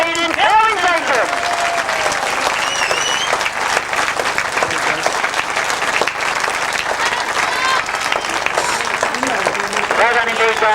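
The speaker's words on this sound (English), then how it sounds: "why don't we give them just one more big round of applause." A grasstrack racing crowd at the 1999 British Masters applauds the podium finishers, a steady wash of clapping and cheering that runs loud and continuous throughout, with a voice speaking over it.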